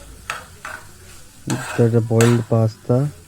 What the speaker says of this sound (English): mix it properly with the sauce and the mixture